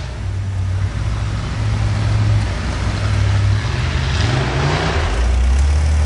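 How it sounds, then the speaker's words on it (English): A Jeep engine revs hard while stuck at a mud bog, loud and close, with low throttle rumble that rises and falls over several seconds and climbs again near the end, no talking over it. "That wheel out when you're on the gas."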